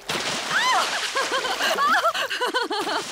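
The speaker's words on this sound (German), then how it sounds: "Ich glaube, wir haben genug gespritzt." Water splashes and sloshes continuously in a Peppa Pig cartoon while high, animated voices chatter and squeal over it.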